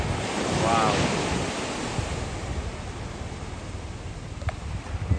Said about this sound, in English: What's that wave over there?